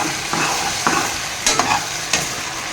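Vegetables, cut long, frying in oil on a gas stove: a steady close sizzle with a few sharp stirring scrapes and clatters breaking through at intervals, no voices.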